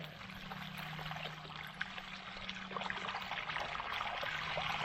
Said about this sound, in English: that's how much water was coming out of the ground